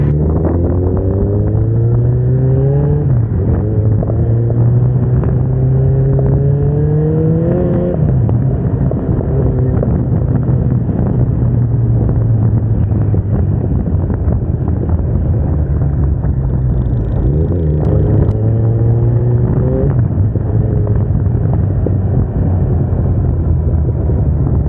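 A 2013 Kawasaki Ninja ZX14R fitted with a Two Brothers exhaust is ridden at speed, and its engine drones steadily close up under heavy wind rush. The pitch climbs through gear changes and drops between them, with no talking.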